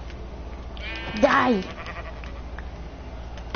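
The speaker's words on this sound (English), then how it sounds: "Found a sheep." A single sheep bleat in Minecraft survival on PS4, one wavering cry of about half a second, clear and close, with a person talking around it.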